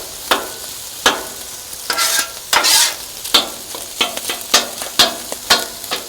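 Fried rice being stirred in a hot pan for hibachi, with sharp repeated scrapes of the utensil against the metal over a steady sizzle, close and loud.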